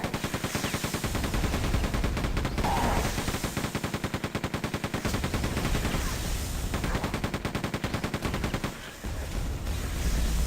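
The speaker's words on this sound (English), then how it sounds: "keep firing our weapons like we did with this machine gun here" Machine gun fire in the video game Quake 2, a loud sustained stream of rapid rhythmic shots with a brief pause near the end before firing resumes.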